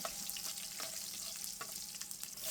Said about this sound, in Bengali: আস্তা রসুনটা দিয়ে একটু নেড়ে দিচ্ছি